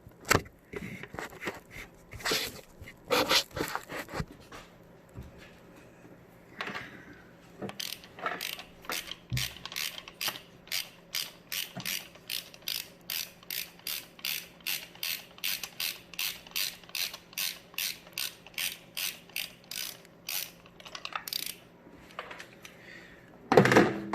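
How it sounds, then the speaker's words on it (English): A ratchet with a 5/8 socket working on the engine of a 2010-2015 Chevy Cruze 1.4L during a spark plug change, scattered clicks at first, then a long run of steady rhythmic ratcheting clicks, close and clear. "you grab a 5/8 socket and take all 4 of them off"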